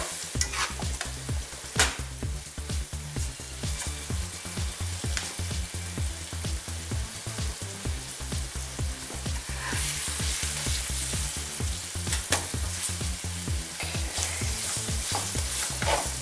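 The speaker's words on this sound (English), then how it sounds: "I'll flip that meat over, get that kind of going in to the olive oil." Meat for Salisbury steak sizzles steadily in hot olive oil in a pan, a loud, close, continuous frying hiss with occasional scrapes and stirring.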